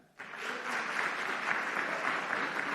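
An audience claps together at a live youth-vote rally at Norfolk State. Dense, steady applause starts abruptly and holds for nearly three seconds with no pause.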